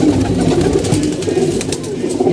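Cooing from a collection of pigeons, including a barren hen of a good line, comes as a continuous low warbling chorus, close and fairly loud throughout.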